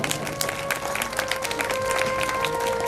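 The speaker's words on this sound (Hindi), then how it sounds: "अपनी अपनी माँ के लिए एक बार जोरदार ताली बजा दो।" An audience at a family gathering claps steadily throughout in dense, even applause, moderately loud with faint voices mixed in.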